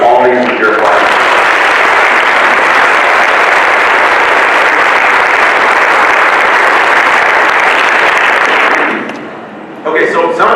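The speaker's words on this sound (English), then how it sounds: "please welcome all these with your applause" A long burst of loud, dense applause from a large audience, sustained for several seconds before tapering off abruptly.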